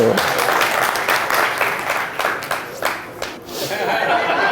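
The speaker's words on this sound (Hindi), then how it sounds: "भाई मजा आया हो तो ताली तो बजा ही दो" Applause from a spiritual discourse audience, dense clapping mixed with some chuckling and chatter, fairly loud and steady throughout with brief dips.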